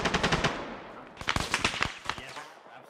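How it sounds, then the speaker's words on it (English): Gunfire in the Arma 3 military game: a rapid burst of shots, a short pause, then another crackling volley fading into scattered, fainter pops. "Something's shooting at us"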